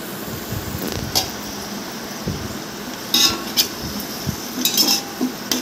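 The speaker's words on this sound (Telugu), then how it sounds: "పెరుగు వేసుకొని కొద్దిసేపు గంటతోటి కలియబెట్టుకోవాలండి" A ladle stirs yogurt in a metal pot while cooking kushka, with scattered metallic clinks and scrapes against the pot, some in quick clusters, over a faint steady hum.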